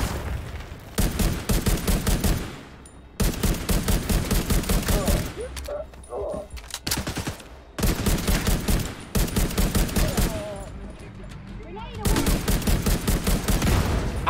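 Loud gunfire from The Division 2 video game comes in repeated rapid bursts of sharp shots, separated by short pauses, filling most of the stretch.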